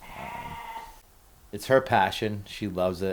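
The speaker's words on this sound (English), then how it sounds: "and you can hear the sheep in the background" Sheep bleat on a farm in a wavering call at the start, followed by someone talking over quiet background.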